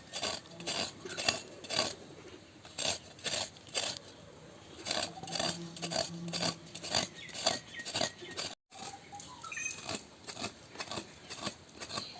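Coconut chutney (thengai thuvayal) being ground on a stone: a steady series of rhythmic scraping and knocking strokes, close and fairly loud, with a brief break partway through and no talking.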